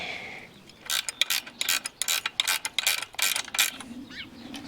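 A nut and washer are spun onto a bolt with a ratcheting tool at a French farm entrance, bursts of quick metallic clicking close by, separated by short pauses, with a faint bird call near the end.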